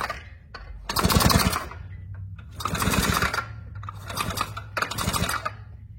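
A small motor with a broken crankshaft runs while its wheel turns and piston moves up and down, giving close, loud bursts of rapid rattling, clattering mechanical chatter over a steady low hum, about four surges in a row.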